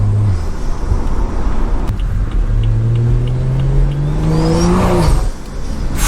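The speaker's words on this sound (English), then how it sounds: "This car sounds too good, bro." A tuned Stage 2+ BMW pulls hard under acceleration, its engine note climbing loud and close through the revs, briefly dropping at a shift, then rising again before cutting off sharply.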